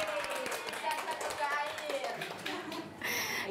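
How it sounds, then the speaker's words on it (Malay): Children in a classroom clap their hands together in a brisk, scattered burst lasting a few seconds, with young voices chattering underneath. "tepuk tangan"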